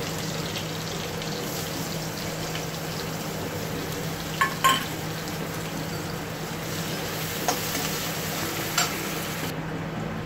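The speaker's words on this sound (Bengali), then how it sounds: "ওইগুলো আমি একটু পেঁয়াজগুলো ভাজা ভাজা করে নেব" Sliced onions fry in hot oil with a steady, even sizzle and hiss throughout, broken by a few brief utensil clicks and taps.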